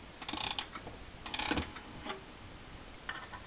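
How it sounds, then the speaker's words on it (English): The springs of an Ansonia mantel striking clock being wound tight with a key give faint, close ratcheting clicks in a few short runs over quiet room hiss. "So you wind up the springs until they come up tight."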